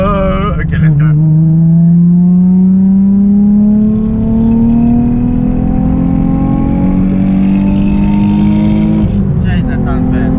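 A mapped Nissan 350Z pulls hard in third gear on a highway, its engine note climbing steadily in pitch as it accelerates, loud and continuous from inside the car.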